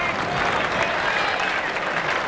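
Spectators at the 1981 US Open semifinal between McEnroe and Gerulaitis applaud steadily after a point, a dense, continuous wash of clapping from a large crowd.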